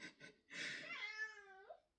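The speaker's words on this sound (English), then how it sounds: "That is my cat." A pet cat gives a couple of short chirps, then one long, clear, rising-and-falling meow, close and fairly soft, with no other sound behind it.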